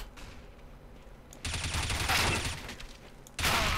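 Gunfire in CS:GO during a competitive match, a loud burst of rapid shots kicking in partway through after quieter game ambience, then a second burst near the end.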